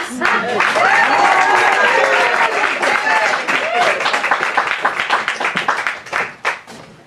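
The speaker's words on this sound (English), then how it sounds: "So again, Peanut Gallery, let's give it up for Barb Jones." Sustained applause from a poetry reading audience, dense clapping that gradually thins into scattered individual claps toward the end, with some cheering voices mixed in.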